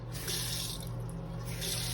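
Hot water streams steadily from a hotel bathroom sink tap, a constant close hiss and splash running without a break and with no voices.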